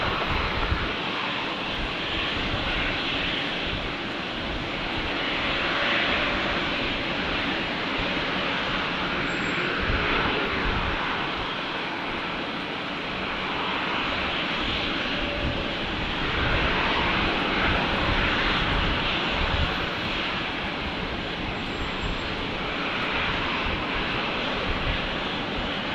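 A passenger plane landing at Brisbane Airport on runway 19 left, its engines a broad, sustained roar rising and falling over nearly half a minute, heard from a distance with no talking.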